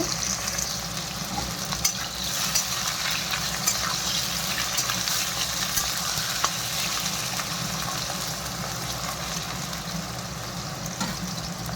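Raw banana pieces fry in oil in a pan, a continuous close sizzle and crackle with occasional soft stirring clicks and no talking.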